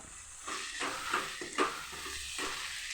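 Spoon stirring chilli and coriander powder in a hot pan for a Kerala-style egg roast, soft scraping strokes over a light sizzle, close and steady.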